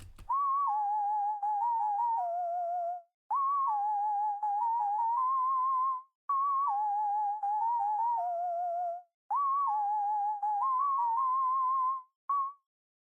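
A simple synth melody with a pure, whistle-like tone plays alone, repeating the same short phrase four times with brief gaps between.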